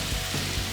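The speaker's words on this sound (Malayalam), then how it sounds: "ഇനി ഇതെല്ലാം കൂടി ഒന്ന് വഴറ്റിയെടുക്കണം." Onion, ginger, garlic and green chilli sauté in hot oil for a Kerala beef curry, giving a brief, dense, close-up sizzle.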